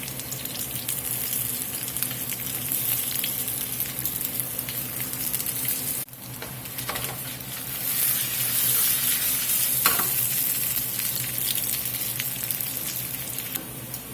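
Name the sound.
potatoes frying and being stirred in pan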